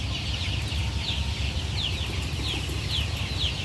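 Hens on a farm of about 1,500 chickens cluck softly and steadily over a constant low background rumble, with faint bird calls repeating at regular intervals.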